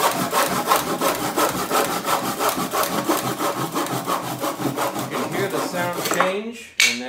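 Hand saw cutting through wood, steady rhythmic back-and-forth strokes, close and clear, ending with a brief break as the cut finishes.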